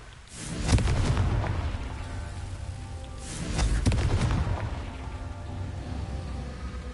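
Two booming blasts from the Confringo fire spell in the game Hogwarts Legacy, about three seconds apart, each a heavy low rumble that slowly fades.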